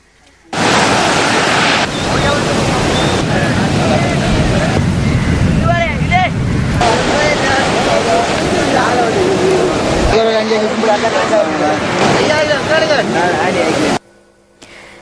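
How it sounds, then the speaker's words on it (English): Rough sea at Jaffna, Sri Lanka, roaring in a dense, continuous wash of surf and wind that stays loud throughout, with gusty rumble and no pauses, beginning and ending abruptly. "Rough seas were seen even today in Jaffna."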